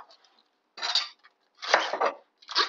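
Salad leaves being tipped from a jar into a bowl, three separate rustling, clinking bursts of glass and utensils, close and fairly quiet, with silence between them.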